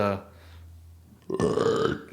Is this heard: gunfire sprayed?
no